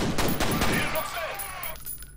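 Dual pistols fire in the F.E.A.R. video game, a rapid volley of sharp, close shots for about a second before trailing off into quieter game ambience.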